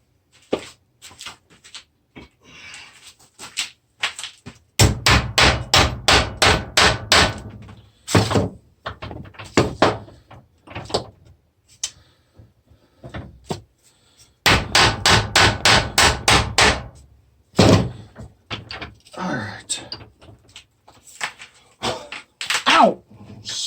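Metal is struck with a hammer in two long runs of rapid, evenly spaced, ringing blows, with scattered single strikes and short pauses between them.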